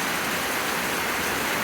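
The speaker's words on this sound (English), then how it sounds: "I don't know if you can hear me with the rain" Steady rain falls in a garden, a dense, loud hiss with no break and no voices.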